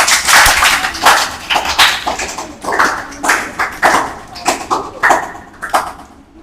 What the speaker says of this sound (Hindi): इस भैया के सम्मान के लिए भी जोरदार तालियां